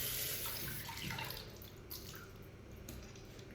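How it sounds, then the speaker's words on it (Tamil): Water running and splashing at a sink while a face is rinsed after a scrub, a steady close wash of tap flow with small drips and splashes, louder at the start and easing slightly. "திருப்பி வந்து ஃபேஸ் வாஷ் பண்ணிக்கிறேன் நான்."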